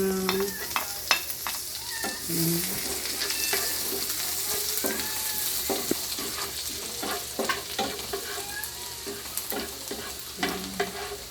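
Garlic sizzles steadily in hot oil in a pan as the first step of a squid adobo, with frequent clicks and scrapes of a utensil stirring throughout.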